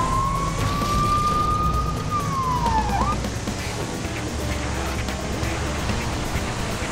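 A police car siren in LEGO City Undercover gives a single loud rising and falling wail that fades after about three seconds, over a constant roar of background noise.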